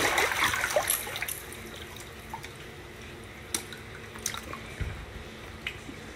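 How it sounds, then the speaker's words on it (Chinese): Water from a tap runs into an Intex inflatable backyard swimming pool, a soft steady trickle with a few louder drips and splashes, fairly quiet and with no talking. "加水"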